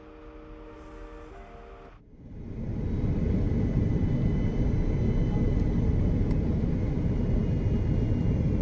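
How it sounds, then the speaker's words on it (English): Cabin of a Korean Air airliner descending into Incheon International Airport, a quiet tonal hum that gives way after a brief dip to a loud, steady broadband engine and air roar. "we started our descent into Incheon International Airport"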